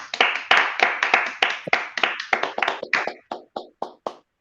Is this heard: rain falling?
no